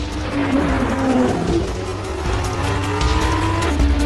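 A 5.2-litre naturally aspirated V10 Lamborghini race car roaring at high revs, a loud continuous engine howl with tire noise and shifting pitch, no voices.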